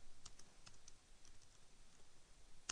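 Someone types faintly on a computer keyboard while entering Python code. Scattered light key clicks sound close but quiet, with no voice over them.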